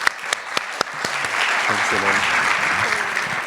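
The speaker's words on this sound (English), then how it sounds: "I think we can applaud you again." An audience at a public forum claps in a steady, dense round of applause after a speaker, beginning with a few scattered claps and swelling to a full sound, as a voice speaks briefly over it.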